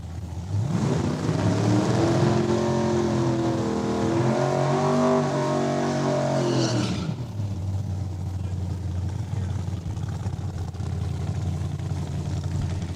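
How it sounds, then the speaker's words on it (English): A drag racing car makes a pass at Saskatchewan International Raceway, its loud engine roaring and rising in pitch for about seven seconds before cutting to a lower, steady rumble as it moves off. "739, first pass of the day for Russ Flamin"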